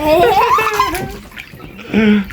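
Water pours steadily into a pool being filled by hand, splashing under loud laughter and voices throughout.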